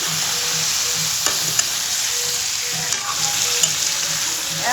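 Chicken sizzles steadily in a hot pan and is stirred now and then, with a loud, constant frying hiss and occasional soft knocks of the utensil. No one speaks.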